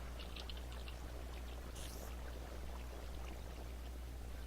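Water pouring in the Minecraft video game, a quiet, continuous trickling stream over a low steady hum, with a brief brighter splash partway through.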